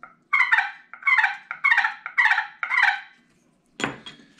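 A wooden turkey call is played, producing five close, raspy yelping bursts in a steady rhythm, followed after a short gap by a single clack of handling noise, with no talk.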